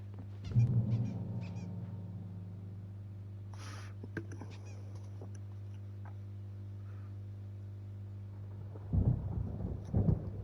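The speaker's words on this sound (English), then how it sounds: "There's a storm coming. Oh, what a storm." A thunderstorm in the video game Alan Wake Remastered rumbles low and steady under a constant hum, with deeper thunder rolls swelling near the start and again at the end.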